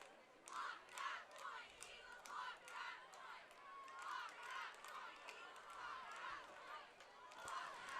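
Cheer squads from both sides chant and cheer in rhythmic bursts across the stands at a high school football game between Los Altos and Mountain View, with crowd noise throughout.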